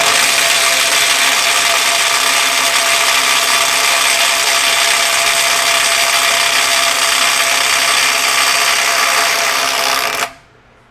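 A Neiko 20V brushless 3/8-inch impact wrench (model 10880A) hammers continuously for about ten seconds at 125 foot-pounds while breaking a bolt free, loud and steady, then stops abruptly.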